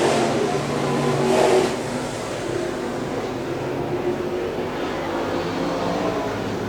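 Pro Mod race cars circle a track, their engines droning steadily at mid distance with a brief louder surge early on, a continuous rumbling roar throughout.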